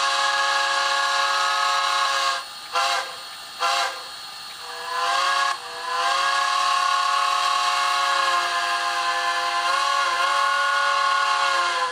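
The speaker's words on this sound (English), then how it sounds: "So then for the whistle and all, I have the Pennsylvania Railroad 3 chime." A model Pennsylvania Railroad M1 steam locomotive's three-chime whistle, from a TCS WOW Sound decoder, sounds loud and sustained, with a few brief breaks early on before holding a long steady chord.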